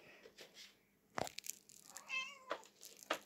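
Pet cat Kitty gives a clear meow midway, set among scattered thumps and small knocks from toys nearby.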